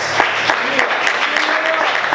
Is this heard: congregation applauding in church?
yes